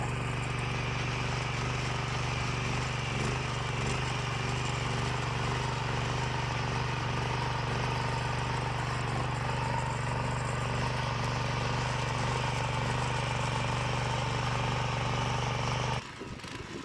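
A small 13-horsepower walk-behind tractor engine, in third gear under light load while planting potatoes, runs at a steady, throaty drone for the whole stretch, close and loud, with no pauses, then briefly changes tone at the very end.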